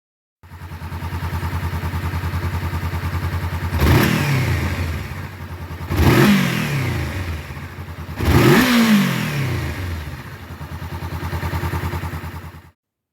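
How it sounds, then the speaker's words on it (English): A 2018 Honda CB500F motorcycle's 471cc parallel-twin engine with a 180-degree crank idles with a steady throb, then revs up three times in quick surges, each rising and falling back to idle, close by. "So the engine, it's a 471cc parallel twin 180 degree crank"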